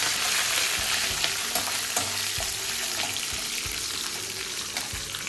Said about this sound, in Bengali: আর আমি এবারে আগে গাজরটা ভেজে নেব হালকা করে